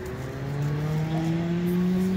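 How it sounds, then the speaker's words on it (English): A car engine revs close by, holding a steady droning note that climbs slightly in pitch over about two seconds. No one speaks. "Brock, give her a Rice Mobile rev."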